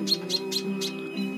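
A Java sparrow (emprit) gives four quick bright chirps, evenly spaced and close, followed by a fainter call, over a steady low background hum.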